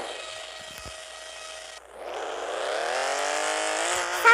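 A Dodge Charger car in a video game gives a high tonal whine that cuts off, then a rising, grinding engine and scraping sound that builds and holds loud to the end.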